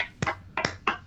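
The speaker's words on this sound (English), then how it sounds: "Slow clap for Bill." A few slow, spaced hand claps, three sharp broadband hits about a third of a second apart, for a guest on a Gamescom community podcast episode, close and fairly soft with no talk over them.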